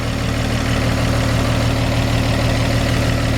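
A 1954 Chevrolet 3100 pickup engine with a rebuilt Rochester carburetor idles steadily at close range, a loud, even low rumble with no voices.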